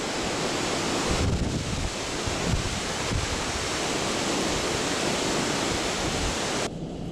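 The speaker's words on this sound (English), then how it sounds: "It's still very windy out there. Got some gale force winds." Strong, gusty gale-force wind near the lighthouse at Elk Neck, Maryland, roars continuously against the microphone, a dense full-band rush with brief lulls and surges.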